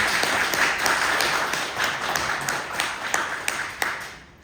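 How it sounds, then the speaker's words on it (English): A small audience at a community pitch presentation claps, the applause thinning into a handful of distinct, separate claps that grow sparser and quieter toward the end. "Let's give them a round of applause"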